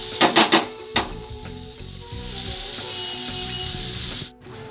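Butter melting in a pan for a creamy chicken sauce, giving a steady, close hiss of sizzling after a few sharp utensil knocks at the start, then cutting off abruptly near the end.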